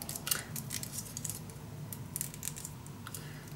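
Scissors cutting a sheet of paper in half, with a series of crisp, close snips and rustling over a low background hum, no voices.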